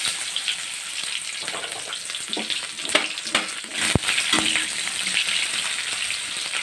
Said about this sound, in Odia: ପିଆଜ ଗୋଲ୍ଡେନ୍ ବ୍ରାଉନ୍ କଲର୍ ହେବା ପର୍ଯ୍ୟନ୍ତ ମୁଁ ଭାଜିବି।